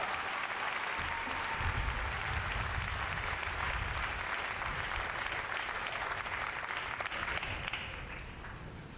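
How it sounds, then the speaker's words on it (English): Sustained applause from the crowd at an infantry graduation ceremony at Fort Benning, honouring the graduates' families; even, dense clapping heard outdoors with wind noise, fading slightly toward the end. "Let's give a round of hand to our families."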